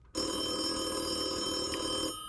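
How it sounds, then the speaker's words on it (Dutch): A telephone bell rings in a small tea house, a steady, loud electronic trill lasting about two seconds with no talking over it. "telefoon"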